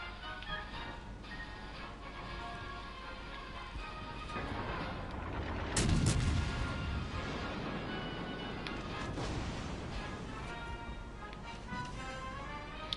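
World of Warships naval battle with the cruiser Azuma firing high-explosive shells at the Atlanta: a dense, steady rumble of distant gunfire and shell impacts, swelling into a heavier booming burst about midway, with no talk.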